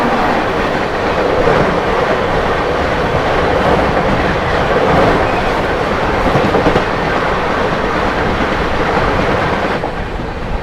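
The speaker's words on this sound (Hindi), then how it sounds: "सामने से आती हुई Bareilly Indore weekly superfast express" A weekly superfast express train running from Bareilly to Indore passes close by, a loud continuous roar of rolling wheels and rattling carriages that holds steady for the whole stretch, with no voices over it.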